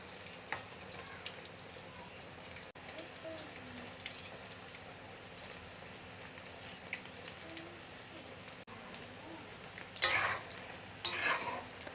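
Lentil cakes (dhoka) frying gently in oil on low heat, a soft, continuous crackle like light rain, fairly quiet throughout, with louder bursts of sputtering near the end.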